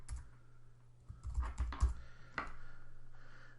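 A computer keyboard being typed on, a short uneven burst of key clicks close by after a quiet hum, ending with one firm tap.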